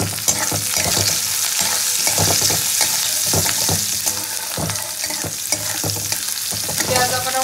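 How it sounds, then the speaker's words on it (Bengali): Onion and green chili fry in hot oil with dried chili and black cumin, a steady loud sizzle broken by frequent stirring scrapes of a spatula against the pan. "পেঁয়াজ আর কাঁচা লঙ্কাটা দেবো"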